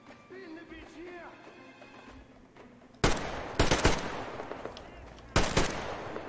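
Gunfire in the video game Metro Exodus: a quieter stretch of background game sound, then loud rapid bursts of automatic shots at close range in two separate volleys.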